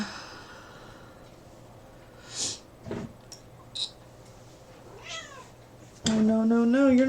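A cat meows near its food container indoors: a few short, faint calls scattered through quiet room tone, then a louder, sustained tonal sound at the end.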